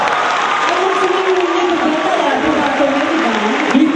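Applause from the audience at a student freshman ball in Cluj, a dense steady wash of clapping with crowd noise, and voices carrying over it throughout.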